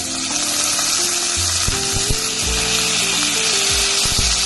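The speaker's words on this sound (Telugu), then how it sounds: "ఆలు, కరివేపాకు అన్నీ వేసి బాగా వేయించుకోవాలి" Onions, tomato, potato and curry leaves frying in a pan with popped mustard and cumin seeds, a continuous loud sizzle with a low hum underneath and occasional stirring scrapes.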